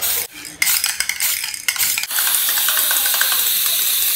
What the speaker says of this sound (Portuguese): vou lixar aqui a geladeira